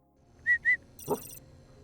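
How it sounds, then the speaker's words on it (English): Two quick, short whistle blips in succession in the video game CONVRGENCE, commanding a dog to follow, clear and close, followed by a brief muffled thump and faint background noise. "Quick double whistle to follow,"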